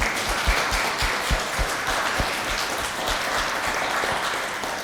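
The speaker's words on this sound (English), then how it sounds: "So let us give them a round of applause and appreciation." Workshop audience applauding together, a steady broadband clatter of many hands with a few sharper claps, sustained and fairly close throughout.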